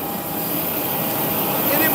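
A large airplane's jet engine roars steadily and loudly at an airport during a transit stop, a continuous broad rumble and whine filling the whole stretch.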